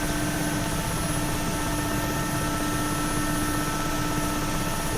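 Mi-8 helicopter in flight in the DCS flight simulator, its rotor and turbine roar forming a steady, loud, unbroken drone with a faint high whine running through it.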